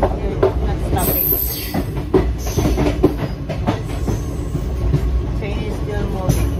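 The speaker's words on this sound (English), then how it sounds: "Train is still moving." A passenger train rolls along near Chennai, its steady rumble and clattering wheels filling the space continuously, with faint voices mixed into the ride noise.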